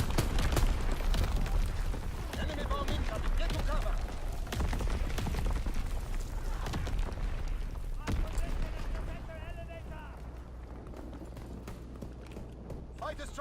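Distant bomb strikes and gunfire crackle and thud through a Call of Duty WWII battle, a dense, continuous wash of explosions and shots with voices calling out over the din.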